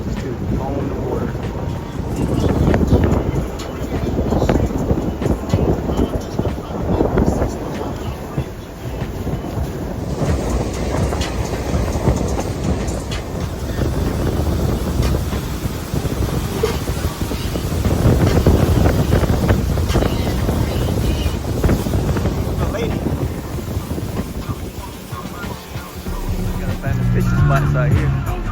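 Wind roars across the microphone over the steady rumble of a motorboat cutting through water near Laughlin, with splashing and a few voices in the mix.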